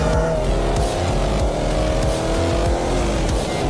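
A 2022 Subaru WRX with all-wheel drive pulls hard out of a corner, its engine roaring loud and steady from close inside the cabin with layered harmonic drone and no pause in revs.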